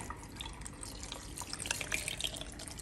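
Water pouring into a blender jar of quartered tomatoes, garlic and onion, a steady liquid splash and trickle close up, heard alone.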